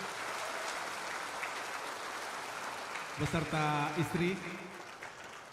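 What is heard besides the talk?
applause for the new minister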